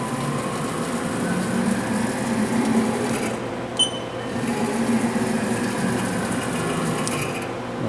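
A Haas TM1 tool room vertical milling machine jogs its Z axis downward, a steady mechanical whir and hum from the drive with a brief click partway through, heard close.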